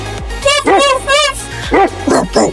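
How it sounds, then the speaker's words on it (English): A dog barks in a quick series of about six short, loud, close yaps with brief gaps between them. "And what sound can you hear from a doggy?"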